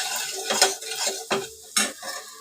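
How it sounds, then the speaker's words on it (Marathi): Ingredients for vada pav are sautéed in oil, with sizzling under sharp scrapes and clinks of a spoon against the pan, three distinct strikes in quick succession, close by. "चांगलं परतून घेतलं ना हे चांगलं तेलात चांगलं तेल हे लागलं पाहिजे भाजलं पाहिजे"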